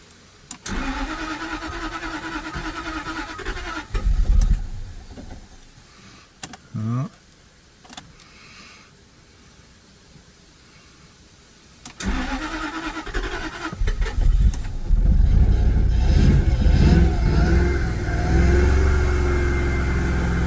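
A Jaguar 4.0 V8 engine cranks a few times after valve lifter and shim work, then catches and roars to life, revving loudly and steadily nearby.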